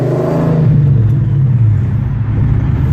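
A 2017 Dodge Challenger Scat Pack V8 pulls in fourth gear from about 1,500 RPM, giving a steady, loud, deep rumble that swells slightly as it accelerates, with no talk over it.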